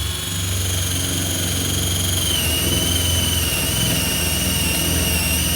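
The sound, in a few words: 21V cordless drill boring wood with a 1/2 inch spade bit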